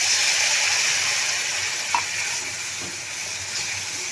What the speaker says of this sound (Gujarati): હવે આપણે આમાં થોડું પાણી એડ કરશું